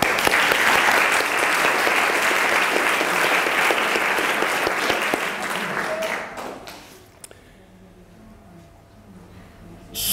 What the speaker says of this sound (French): Donc on applaudit quand même.